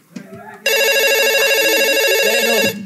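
A mobile phone rings loudly and close, a steady electronic ringtone pattern lasting about two seconds after a brief bit of muffled sound, on a theatre stage.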